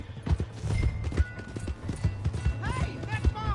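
A horse gallops in Red Dead Redemption 2, its rapid hoofbeats drumming close and loud. Voices talk over the galloping, and a neigh or whinny briefly rises near the end.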